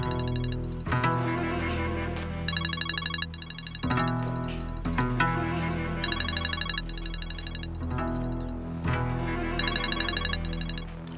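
A phone ringtone plays through a speakerphone during a call, a repeating electronic melodic ring in regular bursts roughly every two seconds, moderately loud and heard on its own without talk.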